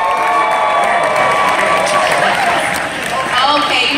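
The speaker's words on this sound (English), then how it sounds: "Make some noise for me, real quick." A school event crowd cheers, whoops and shouts loudly with mixed clapping, a dense continuous roar with a brief dip near the end, voices of children and adults blending together.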